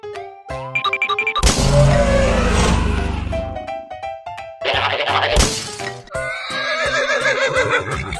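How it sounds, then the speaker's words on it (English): A horse in a children's animal-painting video game lets out a loud, drawn-out whinny over bright game music and sound effects. "Horse."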